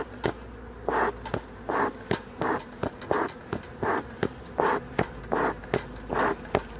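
A honey bee swarm buzzes close by in pulsing waves, with repeated surges of humming and brief sharp ticks between them.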